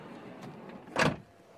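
A sliding side door on a VW California camper van rolls briefly and then shuts with a single solid thud, close and alone.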